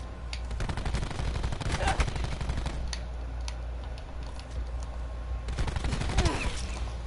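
Rapid automatic gunfire from Maddox and Saug weapons in Call of Duty Black Ops 4, dense fast bursts repeating across the whole stretch, loud and continuous with brief gaps, under a player's voice.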